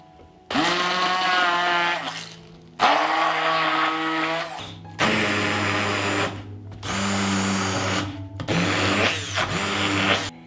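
Immersion blender puréeing chicken pâté with lemon juice, salt and pepper, running in five loud bursts of a few seconds each, the motor whine shifting in pitch as the blade works through the mixture, separated by short pauses.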